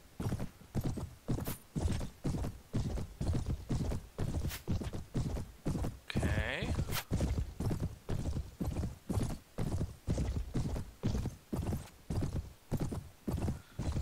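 A war horse gallops in the Mount & Blade Prophesy of Pendor game, its hooves striking in a fast, even clip-clop rhythm up close and loud, with a short neigh partway through.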